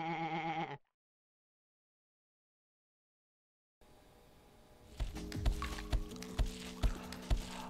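A brief sheep bleat from the video game Sheep Dog 'n' Wolf opens, then cuts to silence, followed by game music and rhythmic thumping effects.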